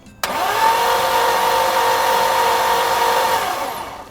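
Mercedes W126 560SEL engine cranked over for a cylinder compression test: a sharp start gives way to a steady, loud, droning whir that holds for about four seconds and then fades.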